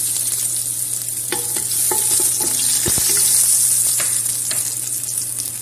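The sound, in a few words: garlic frying in hot oil for chicken biryani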